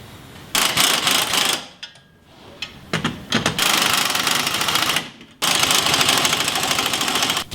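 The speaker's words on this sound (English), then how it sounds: "Alright, the spring's compressing pretty good," A coil spring compressor, likely an impact tool driving it, compressing a Jeep ZJ coil spring, with loud close bursts of rapid rattling hammering separated by brief pauses.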